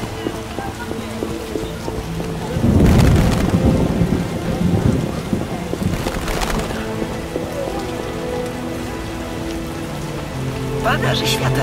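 Steady rain pattering on surfaces in The Witcher video game, broken by two loud thunder crashes that roll and fade, with faint background tones beneath the downpour.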